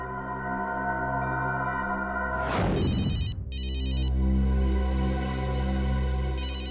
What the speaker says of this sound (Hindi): अननोन नंबर हो सकता है, ये अखिल का फोन है, उठाइए